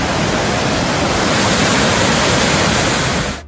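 Hogenakkal waterfall and river water roar loudly and continuously in a dense, steady rush that cuts off abruptly at the end, with no voices.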